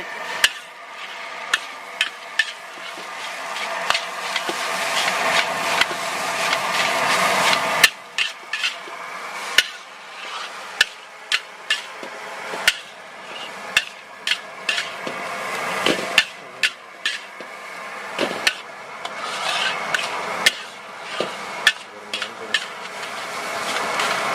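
Rhythmic metallic clanks of a spatula striking a wok while Indonesian nasi goreng is tossed and stirred at a street stall, sharp repeated hits over a steady sizzling background.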